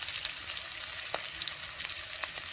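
Onions fry in hot oil for a fish-head and gobindobhog rice murighonto, a dense steady hiss with a few soft stirring scrapes, close and uninterrupted by voices.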